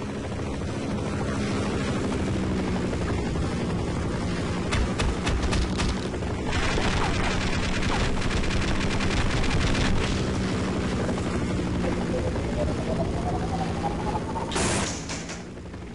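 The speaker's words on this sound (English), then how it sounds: "Hide from the helicopter thing, because we don't like helicopter things." A video game helicopter: a continuous low rotor-like drone with wind-like rush runs throughout, steady and loud, with a brief sharp burst near the end.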